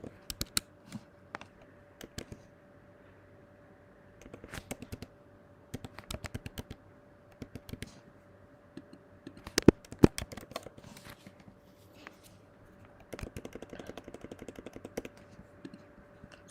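Typing on a computer keyboard while entering data into a spreadsheet: soft, close clicks in short bursts of keystrokes separated by pauses, quiet and with no talk.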